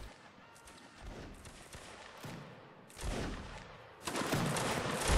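Musket volleys crackle in a Napoleonic line battle video game, a dense, wash-like roar of gunfire that swells in bursts toward the end. It is distant and fairly faint, with no clear single shots.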